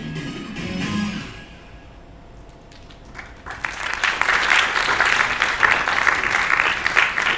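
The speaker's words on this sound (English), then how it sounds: "please give a thunderous applause once again for our diamond sponsor" Audience applause at a national programming league closing ceremony, starting after a short lull and swelling into a loud, sustained ovation from a large crowd.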